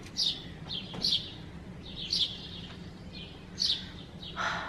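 Small birds chirp outdoors in the morning, bright tweets recurring every second or so over a soft steady background hum, moderately distant and with nobody talking.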